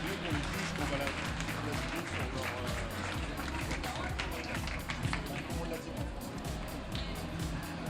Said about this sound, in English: A big applause, please, for Miss Sabine from Deutschland